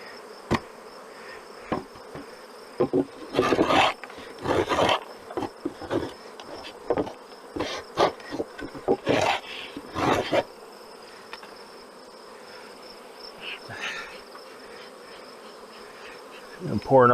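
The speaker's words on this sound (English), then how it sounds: "Bees on the edge there" Honey bees buzz loudly around an open beehive during a nuc transfer, a steady close drone broken by repeated knocks and thumps of frames and boxes.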